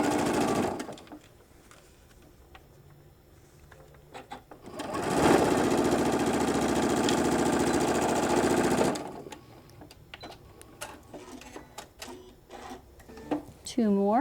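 A sewing machine stitches seams on a shoulder bag in short bursts, with a brief run early and a longer steady whir in the middle, surrounded by quieter handling clicks and fabric noise.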